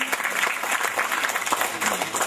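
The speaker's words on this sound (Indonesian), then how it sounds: "Tepuk tangan buat Kampung Petren ini." An audience at an Islamic community gathering in an Indonesian neighborhood claps, a brief burst of dense applause with some sharper individual claps standing out.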